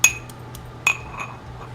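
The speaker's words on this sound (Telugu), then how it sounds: "2 వెల్లుల్లి రెప్పలు ఇలా దంచేసేసుకొని" Garlic cloves pounded in a kitchen give two sharp, close metallic clinks about a second apart, with a soft low hum beneath and no voices.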